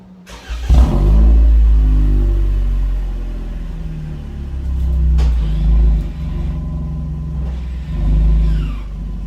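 A 2021 Toyota Camry fitted with a new exhaust starts with a sharp burst, then revs in a deep, loud swell that settles and rises again in a couple of throttle blips.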